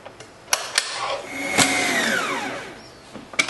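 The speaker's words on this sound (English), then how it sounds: "into the mixer or into a bowl using an electric whisk, put the softened butter or margarine, add the sugar, and whisk together until it's light and fluffy" Electric whisk creaming softened butter and sugar in a bowl for a Bakewell tart, a steady whirring motor hum with a few sharp knocks as the beaters hit the bowl.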